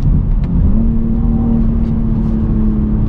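Engine of a 2022 BMW X3 M Competition accelerating, heard loud and close from inside the car as a steady, rising drone with road roar underneath, no talk.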